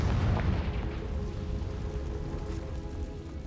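Confringo blasting spell explosion in the Hogwarts Legacy video game, a heavy booming burst that rolls into a sustained low rumble and crackling debris, loud and close throughout.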